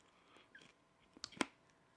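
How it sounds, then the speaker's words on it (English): Popcorn crunches softly between the teeth in a handful of faint, irregular bites, close to the mouth against a quiet background. "Just chewing some popcorn"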